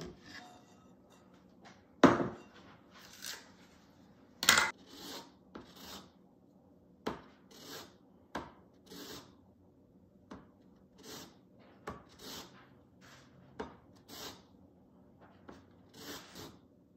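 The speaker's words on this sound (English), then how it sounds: "I need the zest from one lemon." A lemon is zested on a grater, heard as a series of short rasping scrapes in an irregular rhythm, close and fairly quiet, with a few sharper knocks between strokes.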